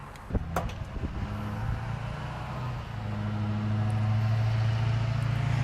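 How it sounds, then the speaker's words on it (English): A StarTrans bus wheelchair lift, worked by remote, unfolds with a few mechanical clunks and then lowers under its own weight to a steady rising motor whine, heard close by. "Now we can operate our lift with the easy remote and just simply unfold the lift into the down position."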